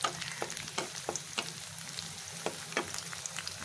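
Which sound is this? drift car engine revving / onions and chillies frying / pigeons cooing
onions and chillies frying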